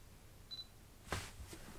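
Canon 800D kit lens autofocusing right beside the microphone: a short, faint mechanical whir and tick, heard twice against a quiet background.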